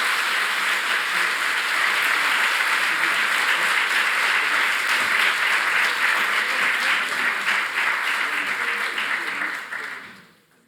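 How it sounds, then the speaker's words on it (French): Sustained applause from a live audience, dense steady clapping filling the room for about ten seconds before fading out quickly at the end, with no talking over it. "je pense qu'on peut applaudir bien fort les orateurs qui ont été excellents"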